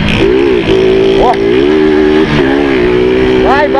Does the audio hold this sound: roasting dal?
no